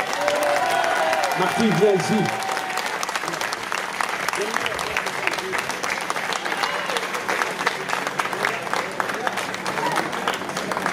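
Audience clapping at a live performance, starting under a brief sung phrase and then continuing as a thick, even wash of applause while a voice calls someone over.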